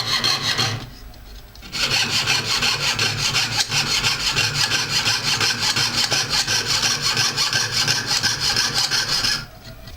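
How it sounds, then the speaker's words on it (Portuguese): A jeweler's saw cuts metal at a goldsmith's bench in steady, rapid back-and-forth strokes. The rasping is loud and close, with brief pauses at the start and end. "Vai virando e serrando."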